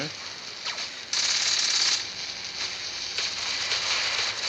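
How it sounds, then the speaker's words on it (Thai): Robots fire at each other in the mech battle game War Robots, with continuous rapid machine-gun bursts and crackling volleys that swell in loud waves, dense and close. "นี่ไง ยิงข้างหลัง"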